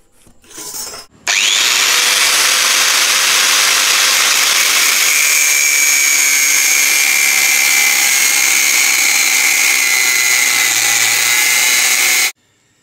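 A power tool cutting into a steel chain sprocket gives a loud, sustained high-pitched grinding screech up close, starting abruptly after a brief rumble and stopping sharply at the end.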